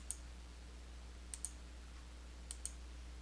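Sharp computer mouse clicks on a Next button during QuickBooks Desktop Pro 2024 user setup, five crisp clicks falling as a single click, then a quick pair, then another pair, over a faint steady hum.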